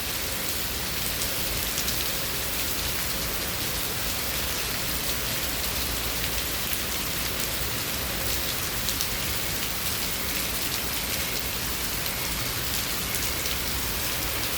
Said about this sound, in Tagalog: Ayan, yung ulan.